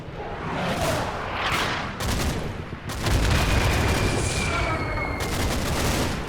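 Mortar rounds land in a wooded target area in Combat Mission: Battle for Normandy, a series of heavy, rolling blasts and crackling bursts that follow one another without pause and swell louder in the second half.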